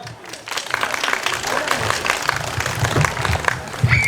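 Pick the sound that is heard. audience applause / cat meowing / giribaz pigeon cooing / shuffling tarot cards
audience applause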